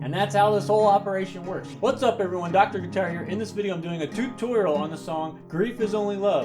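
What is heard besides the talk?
No everyday noises stand out.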